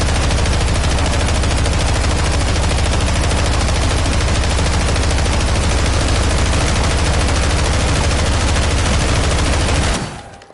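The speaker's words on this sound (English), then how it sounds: "I'm gonna shoot to the ground here" Sustained, dense automatic rifle fire in the Call of Duty MW3 video game, loud and continuous for about ten seconds before cutting off abruptly.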